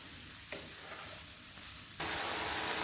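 Fried soybeans are stirred into spiced oil masala in a pan: a soft, continuous sizzle with light stirring scrapes that turns louder and fuller near the end.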